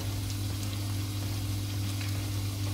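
Fry bread dough being turned over in hot oil, a steady soft sizzle and crackle of frying throughout with a low constant hum beneath, no talk.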